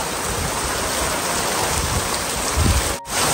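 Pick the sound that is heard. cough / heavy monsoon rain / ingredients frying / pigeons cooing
heavy monsoon rain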